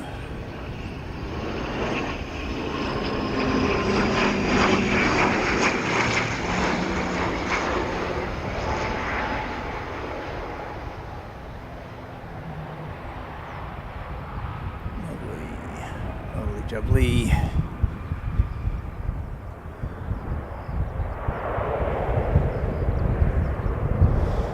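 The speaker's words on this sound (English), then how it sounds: "Here's an ATR." An ATR turboprop airliner passes overhead at evening, a broad droning engine roar that swells, eases, then builds again across the pass, with someone briefly speaking over it.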